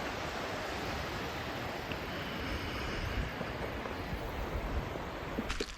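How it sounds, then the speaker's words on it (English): Water runs through a stream in a state park, a faint, continuous rushing that holds steady outdoors with no voices. "Water's running through."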